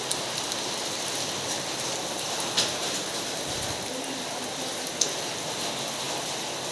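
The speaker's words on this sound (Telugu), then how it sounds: "చూసారు ఎంత వర్షం పడుతుందో" Heavy rain falling steadily, a dense continuous hiss of drops on surfaces close by, with a couple of brief sharp knocks and no talking.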